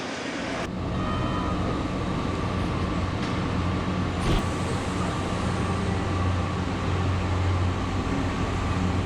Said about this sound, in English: we're going to go hop on the train